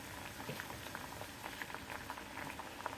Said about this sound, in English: Oh, there you go. They're up to boil.